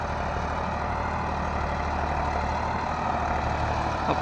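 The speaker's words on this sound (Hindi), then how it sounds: "आप मन देख सकत हवो ये ट्रैक्टर हा मोर दूसरा डोली में आए बर तैयार हो गए है" A tractor engine idles in a farm field, a steady low rumbling drone up close and continuous, with no talking.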